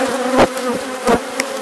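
Honey bees buzz at an open hive during an inspection, a close, steady drone with a few louder swells as individual bees pass near.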